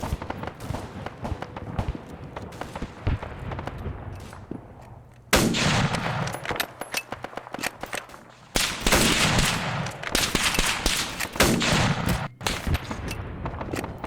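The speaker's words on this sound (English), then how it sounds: "There's the shotgunner up there shooting at people." Shotgun and other gunfire in a 1960s Argentina campaign shooter game, a steady stream of sharp repeated shots with two dense loud bursts, nearby and continuous, with no talking.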